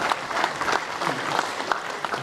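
An audience at a comedy show of anecdotes bursts into brief clapping, a dense patter of many hands, close and moderately loud, with some crowd noise mixed in.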